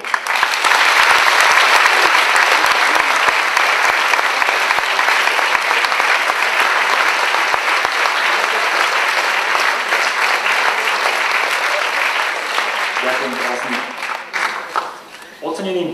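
Sustained, loud applause from a ceremony audience fills the space evenly for about thirteen seconds, then thins out and fades as a voice starts up at the end.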